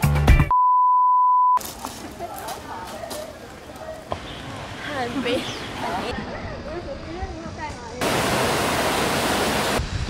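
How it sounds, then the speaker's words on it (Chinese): A waterfall and a fast, rain-swollen stream at a forest campground in Nantou roar as a steady broadband rush, loudest toward the end, broken by abrupt cuts, a tone beep and people talking. "前面还有一个大瀑布"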